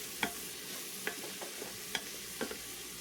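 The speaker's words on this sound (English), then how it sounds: "So we're just going to let that saute." Food sautéing in an Instant Pot, with a soft steady sizzle under a handful of sharp spoon scrapes and taps against the inner pot, spaced irregularly over a few seconds.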